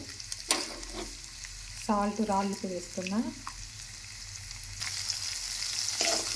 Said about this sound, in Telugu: నల్లేరుని కూడా దోరగా వేయించుకోవాలా, మాడిపోకుండా